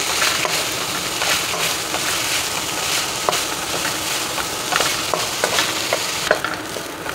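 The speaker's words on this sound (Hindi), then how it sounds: "देखिए कीमा अच्छे से फ्राई हो चुका है।" Spicy minced beef qeema with green chillies fries loudly in a pan for qeema naan, a close crackling sizzle broken by repeated scraping strokes of a stirring spoon.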